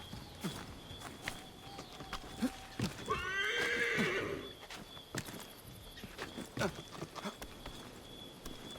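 In Assassin's Creed III Remastered, a horse whinnies loudly in the middle, surrounded by steady clip-clopping hooves and scattered footsteps, with faint background music.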